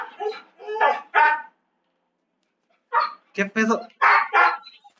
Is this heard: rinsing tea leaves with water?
no